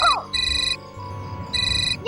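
A phone ringtone sounds in repeated electronic bursts, an on-off pattern of bright tones that plays clearly in the foreground with a short rising chirp at the start.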